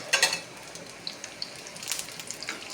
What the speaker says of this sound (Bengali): পাতাটাকে আমি বেসনে গড়িয়ে ভাজ করছি, ভাজ করে তেলে ছেড়ে দিচ্ছি।